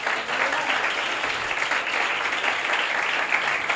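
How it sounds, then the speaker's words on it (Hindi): Sustained applause from a church congregation for Jesus Christ, a dense, steady wash of many hands clapping together without a break for nearly four seconds. "तालियां नहीं बजाएंगे?"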